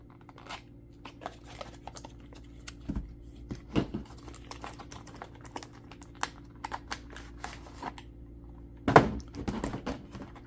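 An original first-generation iPod Shuffle box being opened, with soft crinkling, tapping and small clicks of cardboard and packaging, plus a sharper rustle near the end, all close and quiet.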